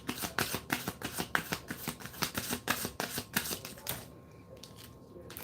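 A deck of tarot cards shuffled by hand for a reading, with a steady run of crisp riffling snaps repeating about every third of a second, close up, then trailing into a softer hush.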